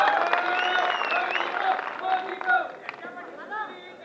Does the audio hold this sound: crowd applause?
yes